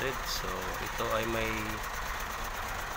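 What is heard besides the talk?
Hino 700 truck engine running rough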